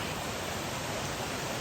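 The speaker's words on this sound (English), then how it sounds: "A bit of a waterfall down there." A waterfall at Harpers Creek on the Appalachian Trail roars in a steady, loud, unbroken rush of falling water.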